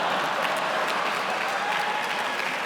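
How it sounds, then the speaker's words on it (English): Applause from an audience at USC: dense, steady clapping that fills the whole stretch at an even level, with no pauses and no voices standing out. "You're going to get lukewarm applause at USC for some of the kids here"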